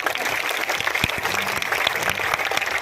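Audience applause at a political gathering in Tharad where Geniben Thakor thanks voters: dense, steady clapping fills the whole stretch at a fairly loud level, with no clear voice over it.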